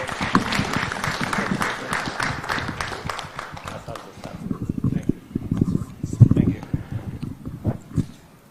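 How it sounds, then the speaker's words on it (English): Applause ripples through the audience at a Kenyan innovation challenge and awards ceremony, loud clapping at first that thins and becomes patchier toward the end, with some voices mixed in. "Let us give the Kenya another round of applause"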